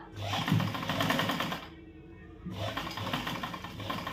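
A sewing machine runs in fast, steady bursts while stitching a size 38 katori blouse, whirring loudly for over a second, pausing briefly, then starting up again close by.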